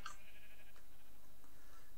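A sheep bleats in a video game, one short, faint bleat at the start, followed by quiet game ambience.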